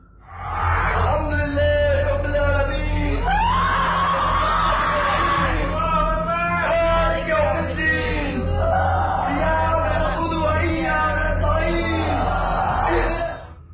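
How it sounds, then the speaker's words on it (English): A woman's loud, sustained screams and roaring yells during a possession, caught on CCTV, continuous and harsh for nearly the whole stretch, with a crowd of voices chanting underneath. "the group chants as the demon continues to scream and roar."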